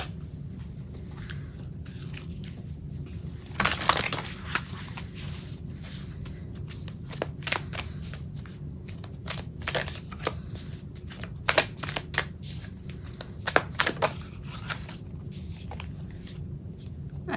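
Moonology Oracle cards being shuffled by hand, soft riffling with scattered louder flutters and taps over a quiet, steady room hum.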